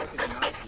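A dog panting in quick, rasping breaths close by, three or four bursts in under a second, heard near abandoned barns.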